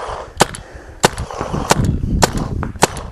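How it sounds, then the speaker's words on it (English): An Azodin Kaos paintball marker fires five sharp, evenly spaced shots over a chronograph, each a crisp pop standing out close and loud against a low background rumble. "We'll shoot a couple over the chronograph here."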